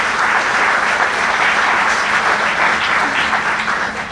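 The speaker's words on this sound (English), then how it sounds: "So please give them a big round of applause to Dr." A dense, even round of applause from an audience in a college hall, loud and sustained, with no voices over it.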